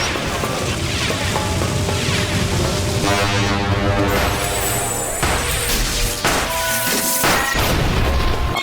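Dragon launcher attack in a video game, a loud sustained barrage of booming crashes with horn-like tonal blasts and sharp impacts layered over a constant roar, filling the whole stretch without speech.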